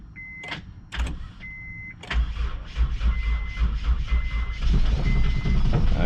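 A 2000 Honda CR-V with a stolen stereo and nearly empty tank cranks in a few short whirring bursts, then catches and fires up into a steady, loud idle rumble with no talk over it.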